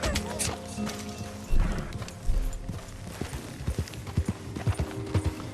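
A Morgan horse's hooves clip-clop at a run in the Red Dead Redemption 2 western game, irregular thudding footfalls with a snort or whinny and rustling, fairly close and uneven in loudness.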